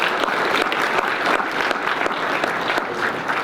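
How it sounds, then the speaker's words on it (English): Broadband clapping from a symposium audience at an awards event, steady and dense across the whole stretch with no voices over it. "So a round of applause for that."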